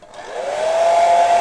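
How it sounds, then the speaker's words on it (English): A hairdryer on a low setting, used to dry paint on tabletop terrain, whirs up and holds a steady, loud airy blow with a faint whining tone, running alone without speech. "hairdryer."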